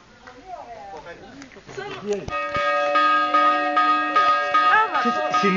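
A church bell rings out loudly at Easter in Dasochori, Greece, its tones sustained and overlapping, while people talk over it throughout.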